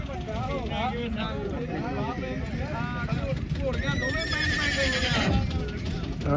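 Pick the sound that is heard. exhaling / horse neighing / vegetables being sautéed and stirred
horse neighing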